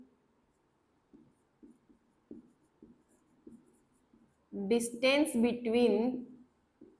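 Pen or chalk writing out a geometry definition during a Class 9 maths lesson: faint, scattered scratchy strokes over several seconds, followed by a teacher's voice speaking clearly up close.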